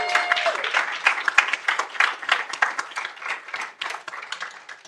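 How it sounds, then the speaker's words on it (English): An audience at a school board meeting breaks into a sustained round of applause, many hands clapping in a dense, uneven patter that swells and gradually thins. "one more round of applause?"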